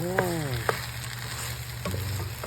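Potatoes and egg fry in a pan while being stirred, a close, steady sizzle with a few brief scrapes and clinks.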